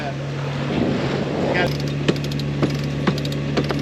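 A sailboat motor sailing gives a steady engine drone mixed with wind buffeting the microphone, with a few sharp clicks and knocks of rigging or gear over it and no talk.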